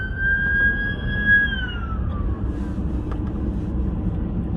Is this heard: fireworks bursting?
no